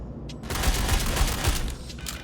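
A Killshot assault rifle firing in the Star Citizen game, a rapid burst of about four loud, punchy shots close together over a dense roaring background.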